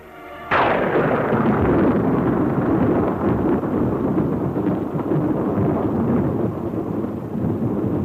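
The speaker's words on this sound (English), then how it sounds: "Seconds later, the blast wave reaches the trenches." A nuclear test blast wave hits the trenches with a sudden loud onset, then a sustained, heavy roaring rumble that rolls on for several seconds without easing.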